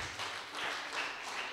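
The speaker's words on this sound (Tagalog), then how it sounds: "muli malakas na palakpak po para sa ating Panginoon" A congregation applauding at a church service, a steady wash of clapping hands that holds for a moment at moderate volume.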